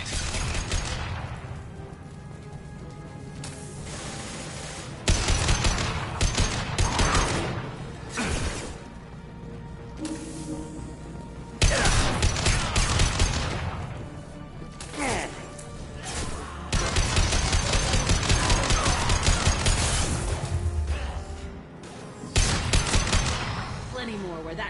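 Battle gunfire in the Mass Effect video game, loud bursts of shots and crashing impacts that come in repeated waves with brief lulls, with voices talking over parts of the fighting.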